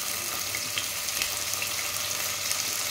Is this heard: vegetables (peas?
yes